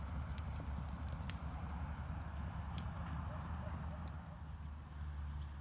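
Faint, irregular hoof clops sound through a steady low rumble, as a barrel-racing horse moves at a distance during training.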